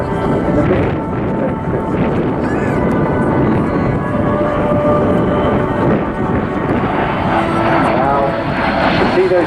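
A two-seat de Havilland Vampire jet flying at an airshow, a loud steady roar of the jet engine throughout, with a commentator's voice heard over it.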